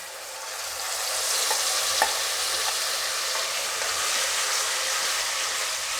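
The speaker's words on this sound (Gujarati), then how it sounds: "હવે આનો વઘાર કરશું આપણે" Asafoetida and masala hit hot oil on a lowered flame, a steady close sizzle and frying hiss holding for several seconds with faint stirring clicks.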